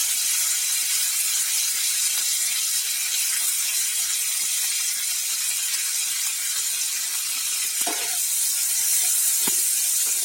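Chopped tomato, onion and green chilli fry in a pan for a thin small-fish curry, giving a steady, close, high sizzling hiss that runs unbroken for the whole stretch, with a couple of brief stirring scrapes near the end.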